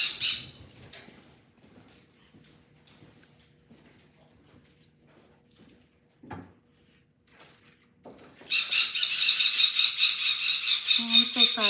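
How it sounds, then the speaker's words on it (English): Pet birds squawk indoors during a live home stream, a brief harsh burst at the start, then quiet with a faint knock, before a loud, sustained, shrill chorus of squawking fills the final few seconds. "Those are my birds."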